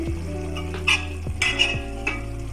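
Cleaned fish laid into a hot pan while making meen pathiri, giving a steady close sizzle with a few soft knocks of the fish and utensil against the pan and no voices.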